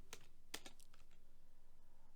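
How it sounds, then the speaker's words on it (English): Computer keyboard typing while coding: a few quiet, scattered key taps close by over a low steady hum, with no talking. "Sorry for the typing."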